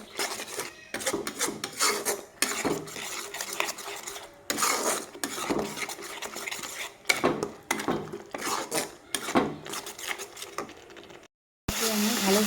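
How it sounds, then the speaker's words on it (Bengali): Spice masala of salt, cumin powder and chili powder being fried and stirred in a pan for an egg and chickpea dal dish, with repeated scraping and rasping strokes of a spatula against the pan, loud and close. "ভালোভাবে কষিয়ে নিব মশলাটাকে"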